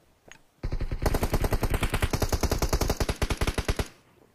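A DP-28 light machine gun in PUBG Mobile fires hip-fire in one long, steady, rapid burst of about three seconds, loud and close, after a brief quiet lead-in.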